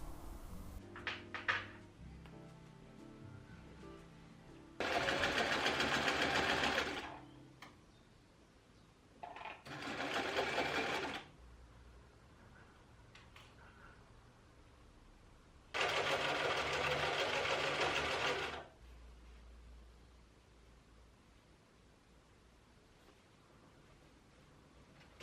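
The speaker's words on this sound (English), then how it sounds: "I don't know if you can hear the coffee brewing" A coffee maker brewing a cup of coffee gives off three separate bursts of loud, hissing, gurgling sputter, each lasting a couple of seconds, with quieter stretches of faint clicks and household rustle between them.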